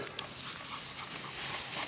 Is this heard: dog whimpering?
yes